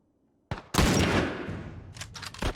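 Gunfire in the video game The Last of Us, with a sharp shot followed by a loud, sustained burst that fades, then a few quick pops near the end.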